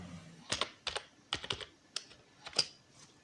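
Keystrokes on a computer keyboard while an Excel formula is typed, a handful of separate clicks and short bursts spaced irregularly, close and crisp with no talking.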